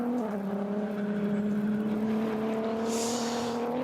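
Onboard engine drone from race car number 47 at the Nürburgring during an endurance race, a steady loud tonal whine holding pitch and rising slightly, with no talk over it.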